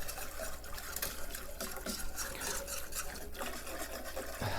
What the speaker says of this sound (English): let me do a little bit better to whisk this through.